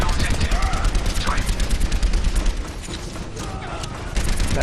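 An enemy turret fires in the game Overwatch, a rapid stream of sharp automatic shots layered with other battle noise, steady and close, with faint speech underneath.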